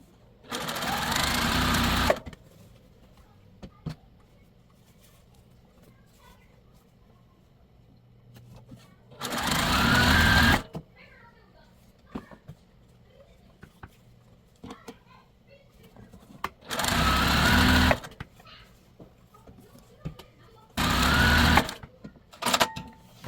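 A sewing machine chain-pieces quilt blocks in four separate bursts of fast, steady stitching, each lasting one to two seconds, close and loud, with quiet pauses and fabric handling between runs.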